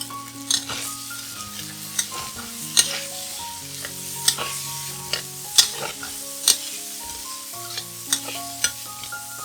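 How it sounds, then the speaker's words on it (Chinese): Thai basil tofu stir-fried in a wok with dark soy sauce: a loud, constant sizzle broken by rhythmic spatula scrapes and clanks, with soft background music. "再倒入黑酱油，炒均匀。"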